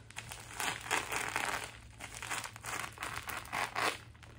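A knife cuts into the plastic packaging of an extended Glock magazine, producing close, continuous crinkling and tearing rasps with brief surges as the blade pushes through.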